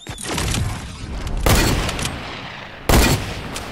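Gunfire in Fortnite: a few loud, close shots crack out, each one a sharp burst that leaves a short rumbling tail, with the later shots spaced about a second and a half apart.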